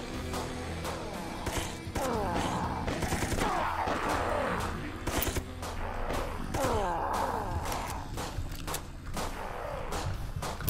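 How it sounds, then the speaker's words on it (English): Machine gun fire rattles in rapid, sustained bursts in the Dead Sky game, loud and close, with brief pauses between volleys and metallic impacts and clanks mixed through the shooting. "Machine gun."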